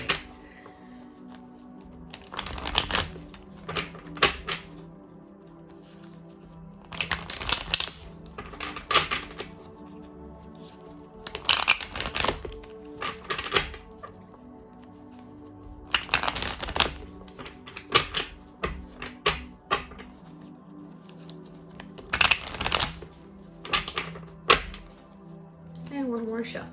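Tarot cards being shuffled in several separate bursts of crisp riffling and slapping, with quiet pauses between them and some faint talk.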